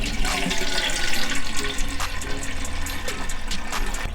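Filtered water runs steadily into a container while a houseplant's watering vessel is filled, a continuous close splashing pour with no talk.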